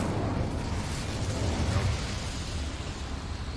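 Incendio fire spell cast in the game Hogwarts Legacy, a dense roaring burst of flame that swells for a moment and then settles into steady crackling rumble, heard alone without talk.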